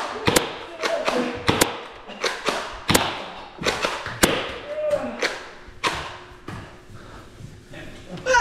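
Nerf Rival blasters firing foam rounds during a Nerf gun game, a rapid series of sharp, loud snaps and thuds spaced irregularly, with rustling and movement between shots.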